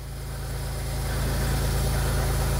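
A Smart car engine idles with its water pump and auxiliary belt removed, a steady low rumble with rapid even pulsing that grows slightly louder, close by with no talking.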